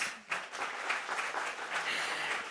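Audience applause at a Kerala debate competition grand finale, a steady mass of clapping from a crowd that starts abruptly and holds at moderate level for a couple of seconds with no voices over it.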